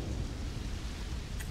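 Rain pours steadily on a lush, Earth-like planet in Starfield, a dense low rumble of downpour and distant thunder rolling throughout, with a brief brighter crackle of lightning near the end.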